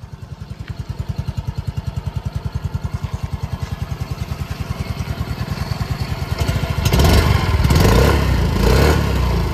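A 2024 Yamaha Fascino 125 scooter engine idles with a steady, even putter after a quiet self-start, then revs up louder near the end.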